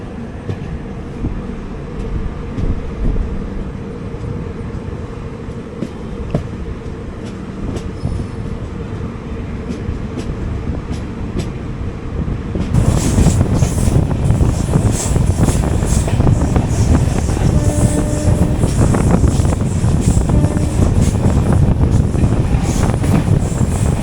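The 12202 Kochuveli–Lokmanya Tilak Garib Rath Express rolls out of Changanassery with steady clattering, rumbling carriage noise heard from aboard; the sound grows markedly louder and rougher about halfway through as the train picks up speed, with wind buffeting and no voices.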